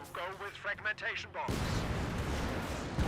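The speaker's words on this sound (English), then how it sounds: "a mortar connects there" A mortar shell slams in during a Company of Heroes 2 battle: a sudden loud blast at about the midpoint, followed by a sustained rumbling roar of battlefield noise, with someone talking over game sounds just before the impact.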